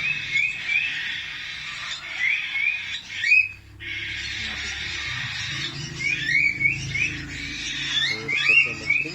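Young cockatiels during hand-feeding give repeated short chirps and scratchy squawks in bursts, fairly close, over a soft background hum.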